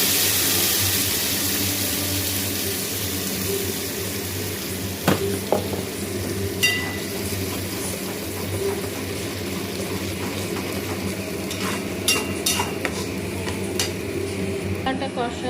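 Spice paste frying in oil for egg curry, with a continuous loud sizzle and repeated scraping stirs and occasional clinks of a utensil against the pan.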